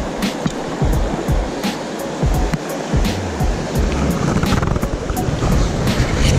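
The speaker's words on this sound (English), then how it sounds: "Nice brook." A brook streams steadily past a fly-fishing spot for trout, a continuous broad rush of moving water that stays close and fairly loud throughout, with no talking.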